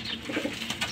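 Parwazi pigeons cooing softly at close range, a few low burbling calls over a busy background of rustling and faint chirps.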